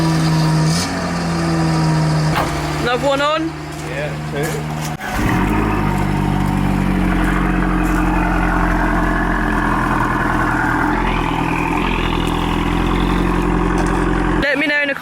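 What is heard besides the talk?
car engines revving and idling while moving cars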